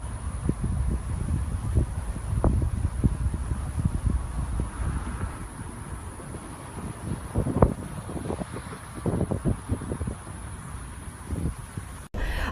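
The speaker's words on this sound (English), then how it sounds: "right now it's still windy" Strong hurricane wind in Houston during Hurricane Harvey, gusting and buffeting the microphone with steady roaring noise and irregular bursts, no talking.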